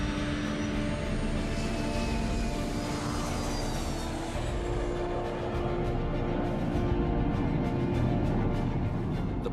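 A Bombardier Learjet accelerates down the runway on its first flight, a loud continuous jet roar with rising whine and rumble, steady and close throughout.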